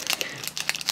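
Foil wrapper of a Yu-Gi-Oh Dragons of Legend booster pack crinkling and tearing up close, a quick burst of sharp rustles and crackles.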